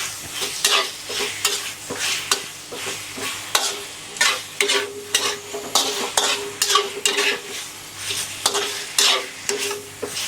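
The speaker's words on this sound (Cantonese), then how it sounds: "炒一下佢快啲腍啊！" Braised pork with beancurd sticks being stir-fried in a pan: loud, close sizzling under rhythmic scraping and stirring strokes of a spatula, repeated steadily throughout with no talking.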